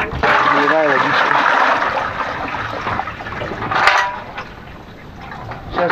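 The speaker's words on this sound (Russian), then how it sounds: "Наливаю водичку." Water pours from a metal flask into a container, a continuous splashing gush that gradually softens and trickles, with a brief voice near the start.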